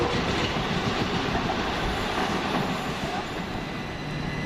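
At East Croydon station a fast non-stopping train roars past platform 3, a sustained close rumble and clickety-clack of wagons with faint wheel squeal, beginning to ease toward the end.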